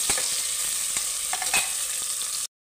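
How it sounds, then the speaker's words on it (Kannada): Two large chopped onions fry with spices in a pan, a steady close sizzle broken by light scraping stirs, then cutting off abruptly. "ಈರುಳ್ಳಿ ಫ್ರೈ ಆಗಬೇಕು ಸ್ವಲ್ಪ ಹೊತ್ತು।"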